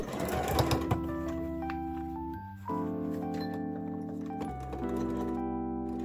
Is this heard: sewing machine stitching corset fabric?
yes